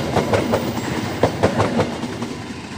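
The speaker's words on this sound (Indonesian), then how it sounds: "itu dia kereta api lokal Bandung Raya sudah berangkat dari stasiun Cicalengka" A Bandung Raya local passenger train pulls away from Cicalengka station in Indonesia, its wheels beating a steady clickety-clack rhythm over rail joints at close range. No voices are heard.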